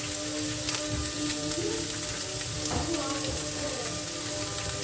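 Onions sizzling and caramelizing in a pan for a gratin, a continuous crackling fry with occasional stirring scrapes, steady and close.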